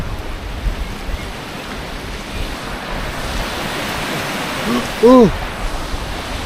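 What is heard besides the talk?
rushing river torrent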